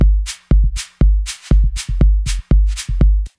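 A vocoded shaker in a drum loop, with an LFO on release stretching and shortening each hit, plus EQ and reverb, pulsing over punchy low kicks in a steady, bouncy pattern.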